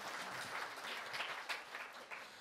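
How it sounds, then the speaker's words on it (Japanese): An audience at a forum on ending nuclear power and promoting natural energy claps in steady, fairly faint applause that carries on evenly. "もう一度拍手お願いします"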